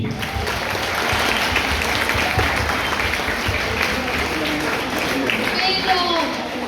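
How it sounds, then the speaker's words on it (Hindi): At a student topper talk show, a crowd breaks into loud, continuous applause for a teacher, a thick wash of many clapping hands with voices and cheers mixed in. "जोरदार तालियां महिमा मिस के लिए।"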